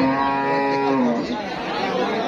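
A Friesian dairy cow at a busy cattle market lets out one loud, close moo that slides downward and fades into the hum of market chatter.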